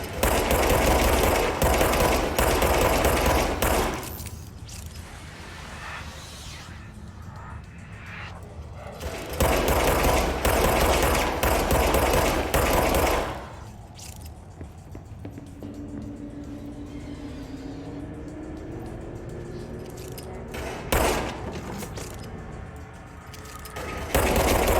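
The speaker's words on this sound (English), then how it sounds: "So I'll just shoot the wall." Gunfire from a player shooting at a wall in the video game Control, with several loud, sustained bursts of rapid shots separated by quieter stretches of ambient game sound and a faint rising tone near the middle.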